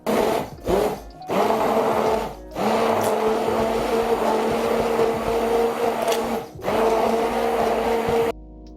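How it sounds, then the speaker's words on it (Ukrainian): A blender mixes pancake-style batter of sour cream and flour, whirring loudly in several bursts, stopping and restarting a few times, with a steady motor hum during each run. "І перебиваємо все блендером до однорідності."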